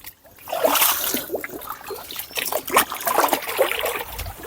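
Water trickles and splashes steadily through a traditional village irrigation channel dug into a hillside, a continuous gurgling flow with small bubbling bursts throughout.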